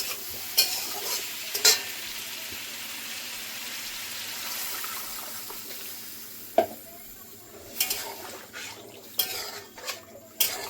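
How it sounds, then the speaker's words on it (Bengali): Vegetables fry in a pan for a Bengali ridge gourd and potato curry, with a steady soft sizzle and sharp clinks of a spatula or spoon against the pan scattered through it. No one speaks. "কিছুক্ষণ ভেজে নেব"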